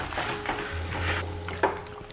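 Baked beans being stirred in a dish, a brief soft scraping and wet shuffling with a faint sizzle underneath, close and quiet, no speech.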